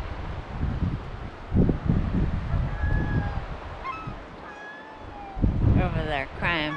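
Seagulls cry repeatedly at a dipnetting spot on Alaska's Copper River, begging for caught fish, their sharp calls rising over wind noise and someone talking nearby.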